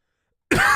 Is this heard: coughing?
yes